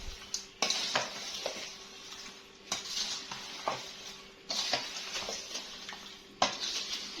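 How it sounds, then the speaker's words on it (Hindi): Tamarind mango chilli pickle being mixed with masala in a metal pot, with repeated short scraping and clinking strokes of a spoon at a steady rhythm, close and fairly quiet. "इसको मैं मिक्स करूंगी अच्छे से।"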